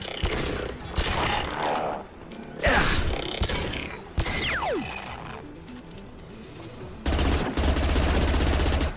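Rapid automatic gunfire from a new short-range gun in the video game Mass Effect 2, loud bursts with gaps between them, along with game effects and a sweeping tone.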